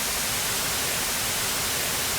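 Steady broadband white noise hisses evenly and continuously as a test signal in audio mixing, moderately loud with no voices or variation.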